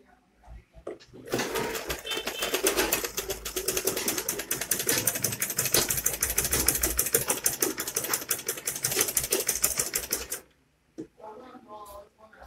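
Sewing machine stitching the side of a flat cap made from Ankara fabric, running in a loud, steady rapid-needle rattle for about nine seconds before it stops, with a brief quieter run near the end.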